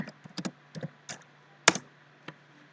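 Keys clatter on a computer keyboard in a quiet room, a brief uneven run of about a dozen close, crisp taps with one sharper press in the middle.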